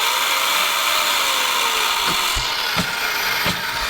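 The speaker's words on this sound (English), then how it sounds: "Love that saw, baby. Beam cutter." A beam cutter saw slicing through deck framing lumber, its loud continuous motor whine steady throughout with a sliding pitch, and a few sharp knocks of wood near the end.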